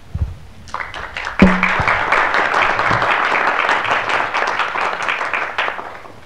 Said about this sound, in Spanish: Muy merecido aplauso.